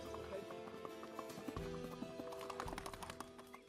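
Paso fino horse ridden by a first-time rider, hooves tapping out a quick, even clip-clop on a hard surface, with faint background sound and no clear voices.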